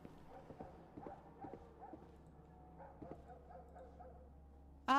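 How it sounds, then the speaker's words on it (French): Dog barking inside a video game, a few sharp barks spaced across the first half and again near the middle, fairly quiet over a steady low game hum. "c'est bien ça, c'est le coup du chien qui aboie"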